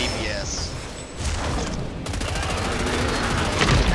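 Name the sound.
gunfire in the video game Killing Floor 3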